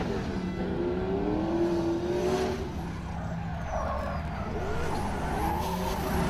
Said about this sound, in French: Michael là, il a l'air de gérer un petit peu la conduite de la GT86 Aisin